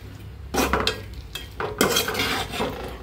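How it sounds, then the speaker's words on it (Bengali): A potato and bitter gourd curry being stirred and fried in a pan: a few scraping, clattering bursts of a utensil against the pan over a low sizzle, close and fairly loud, with no voices. "তারপর এখন তরকারি দিয়ে আবার একটু ভালো করে কষিয়ে নিব।"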